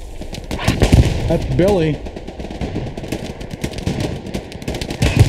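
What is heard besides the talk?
artillery fire from flak guns in video game Hell Let Loose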